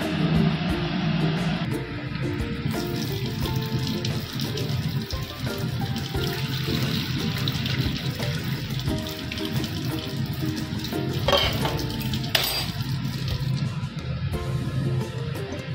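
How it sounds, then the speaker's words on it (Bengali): Whey water drains from freshly curdled milk chhena in a home kitchen, a continuous trickling and splashing pour with a few sharper splashes late on. "পুরো ছানার জলটা ছাড়তে হচ্ছে"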